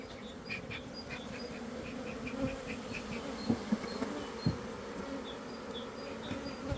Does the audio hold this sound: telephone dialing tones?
no